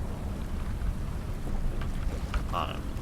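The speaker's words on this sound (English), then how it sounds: "And now it's hailing, it would seem." Hail falls in a storm within the horror video game Before Dawn, a continuous low rumbling patter under faint scattered clicks, steady and moderately loud throughout with no voices.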